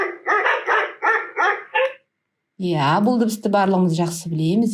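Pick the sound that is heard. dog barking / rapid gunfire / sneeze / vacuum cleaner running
dog barking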